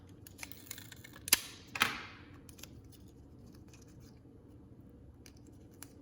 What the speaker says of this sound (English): and we have to tape this piece on.